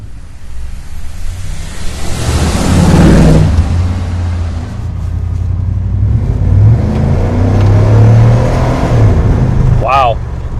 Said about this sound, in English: see how this Flowmaster American Thunder system sounds.